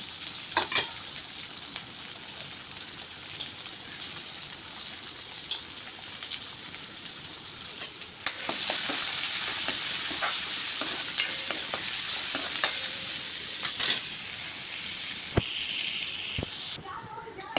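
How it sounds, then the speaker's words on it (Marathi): Onion and curry leaves frying in oil with cumin in a kadhai for a Maharashtrian peas curry, a continuous soft sizzle with spatula scrapes and clinks, growing a little louder midway, with no talking heard. "आता हे कांदा पर तेलामध्ये छानपैकी परतून घेतलेला आहे"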